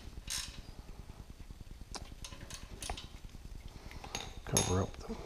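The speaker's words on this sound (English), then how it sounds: "Probably could use a shorter wrench for this one." A socket wrench ratchets in quick, close clicking strokes while working on an alternator install on a Yamaha YXZ side-by-side, with a few louder metallic knocks and a brief clatter near the end.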